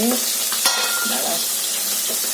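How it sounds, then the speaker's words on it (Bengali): Falli fish and eggplant slices sizzle in hot oil in a kitchen pan, a continuous close crackling hiss with faint clinks and stirring sounds over it. "এদিকে দেখো ফলি মাছ ভাজা হচ্ছে, এদিকে বেগুন ভাজছি।"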